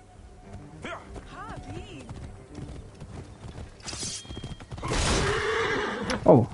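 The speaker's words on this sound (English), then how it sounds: "Oh, I probably hit the horse." A horse in Assassin's Creed Origins gives a loud whinny near the end, with hoof clip-clops and other game sounds before it while a player talks.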